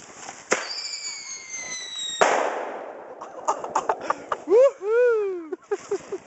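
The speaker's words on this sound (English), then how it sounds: "Let's light some fireworks." Fireworks are lit outdoors: whistling launches and sharp bangs, then crackling bursts and rising, falling whines follow one after another at close range, with people's voices mixed in.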